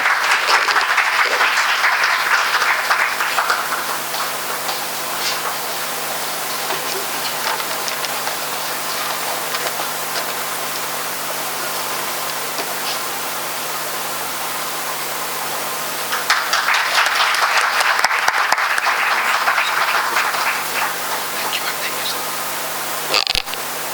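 Loud, sustained applause from an audience at a college orientation program, dense clapping that fills the room, easing slightly midway and then swelling again near the end.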